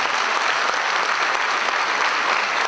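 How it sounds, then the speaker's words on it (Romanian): Audience clapping at a Christmas carol show, a thick uniform roar of applause from a crowd, loud and unbroken from start to end. "Aplauze!"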